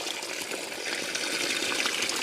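Cold water pours steadily at a hut on a mountaintop, a continuous close splashing rush without pause.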